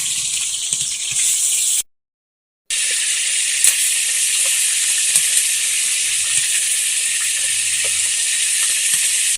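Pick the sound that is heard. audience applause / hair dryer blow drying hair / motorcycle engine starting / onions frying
onions frying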